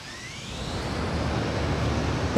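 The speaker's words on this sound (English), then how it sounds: "How's those engine sounds?" A steady, broad roar of an Aermacchi MB-339 jet engine in Microsoft Flight Simulator hums at constant volume with a faint rising whine, ending in a short bump.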